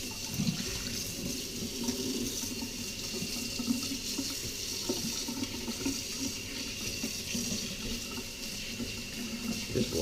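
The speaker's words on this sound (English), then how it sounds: "Just wash the spoon off real quick." Hot tap water running steadily into a kitchen sink while a spoon is rinsed under it, a continuous close splashing hiss with small clinks and shifts in the flow throughout.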